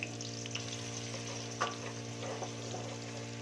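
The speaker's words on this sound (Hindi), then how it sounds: "अब इसमें हमने जो प्याज काट कर रखा हुआ वो हम इसमें डालेंगे और प्याज को हल्का ब्राउन करेंगे।" Chopped onions fry in hot oil in a wok with a faint, steady sizzle and a few soft clicks of stirring.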